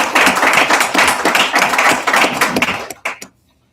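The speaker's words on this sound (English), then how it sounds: "They all deserve a big round of applause for all of our work." Applause from an audience at a Providence school board meeting, a dense, steady crackle of many hands clapping close by for about three seconds before stopping abruptly, with a few last claps trailing off into silence.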